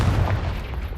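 A Confringo blast spell exploding in the video game Hogwarts Legacy: a short, loud, booming burst with a low rumble and no talking.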